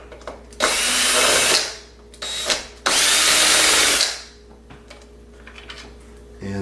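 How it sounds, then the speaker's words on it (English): Power driver runs screws into Onewheel parts during a Fang Minis 2.0 footguard install, with two long high-pitched whirring bursts and a short one between them, loud and close, then quiet handling noises. "for the purposes of time, I'm going to just use this driver."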